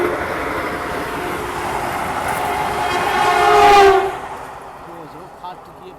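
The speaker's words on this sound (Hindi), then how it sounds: "पीछे से वंदे भारत जो है वो आ रही है, इसलिए चंदौली स्टेशन पे अपना ट्रेन जो है वो रुकी हुई है।" A Vande Bharat Express passes Chandauli station, a loud rushing train roar that swells toward the fourth second with a horn-like tone, then fades quickly as it goes by, leaving quieter ambience.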